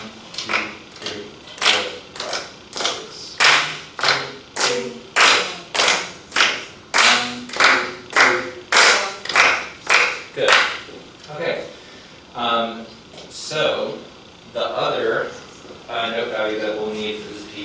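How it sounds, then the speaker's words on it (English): A group slowly claps a rhythm in 6/8, in groups of three: loud, crisp, evenly spaced unison claps for about ten seconds, then fewer, looser claps as a voice talks over them. "So if everyone will just slowly clap this top line, so in groups of three"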